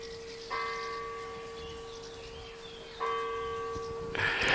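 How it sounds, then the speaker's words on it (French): Church bells ring out at nine o'clock, two sustained resonant strikes a few seconds apart with long humming decay, clear and alone with no talking. "J'adore les sons de cloche de ces églises."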